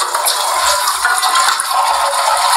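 A toilet flushes nearby with a loud, continuous gush of rushing water and faint rattling, steady throughout with no voices.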